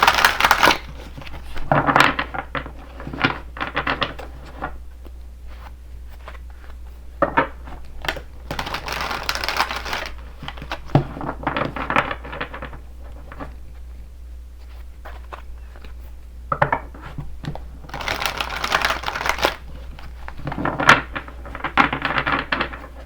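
Crisp papery riffling and snapping of cards being shuffled, in several bursts with short pauses between, close by and fairly loud.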